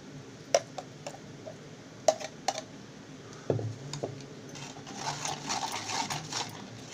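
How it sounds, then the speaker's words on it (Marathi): A spoon stirs blended guava pulp through a metal sieve set over an empty pot to hold back the seeds, giving a few sharp taps and clicks and then a stretch of soft, close scraping. "असं फिरवलं की ते त्याचं जो गर आहे तो खाली जाईल आणि फक्त बिया वरती राहतील"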